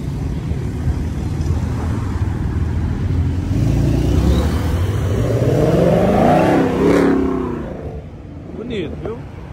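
A Ford Mustang accelerates nearby, its engine note climbing in pitch as it revs and passes, then fading away, with street noise and voices in the background.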